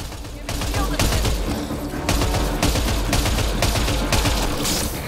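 Rapid automatic gunfire in the sci-fi shooter Mass Effect: Andromeda, dense bursts of weapon fire one after another with brief gaps, loud and close, with voices among the shots.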